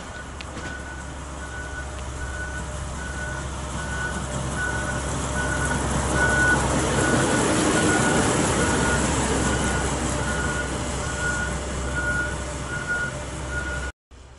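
A hi-rail backhoe rides on train wheels along a CSX rail line by the Delaware River, giving a steady rumbling roll with a faint repeating beep throughout, swelling slightly midway.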